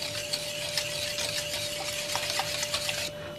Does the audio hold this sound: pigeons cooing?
no